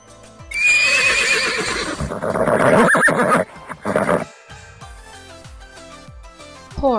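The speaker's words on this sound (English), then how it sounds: "horse" A horse whinnies loudly in a long, shrill, descending neigh, followed by snorts and a few hoof clops over a light musical backing, with a second brief neigh at the end.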